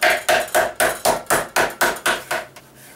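Repeated hammer blows pounding thin-sliced beef to tenderize it, about ten loud, evenly spaced thuds close up with no talk, the last one fading into quiet.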